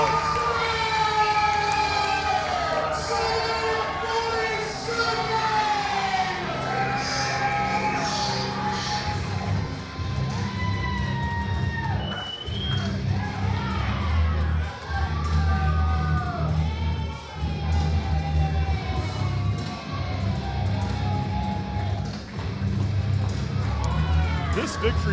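A wrestling crowd cheers and roars after Monster 747 defeats Sebastian Cage, a loud, sustained arena din running under excited commentators talking throughout.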